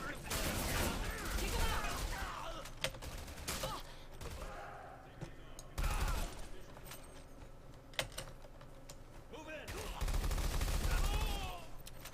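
Gunfire in the first-person shooter SiN Episodes: Emergence, repeated rapid bursts and single shots against spawning enemies, mixed with keyboard clatter and game noise, loud and near.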